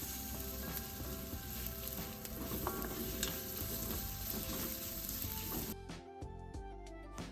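Vegetables for Sri Lankan kottu frying in a pan, a steady dense sizzle with scraping stirs underneath, close and constant, then thinning out near the end with a few clinks; nobody talks.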